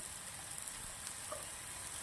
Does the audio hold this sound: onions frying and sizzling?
yes